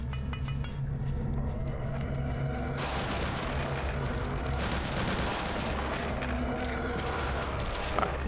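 Grenade blast in Return to Castle Wolfenstein, a loud broadband burst at around three seconds amid dense, continuous gunfire and combat din that runs through the whole stretch.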